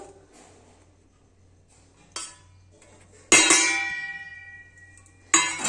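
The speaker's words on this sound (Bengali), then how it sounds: "যে ম্যারিনেট করে রেখে দিয়েছিলাম তার মধ্যে এবার মিশিয়ে দেবো" A metal spoon clinks against a bowl while marinated chicken is mixed with flour and cornflour, giving a few separate bright chimes that ring out and fade in a quiet kitchen.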